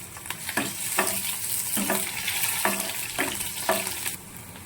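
Four or five green chillies sizzle in hot oil for a village-style drumstick-leaf bassaru, with a steady frying hiss broken by rhythmic scrapes of stirring in the pan.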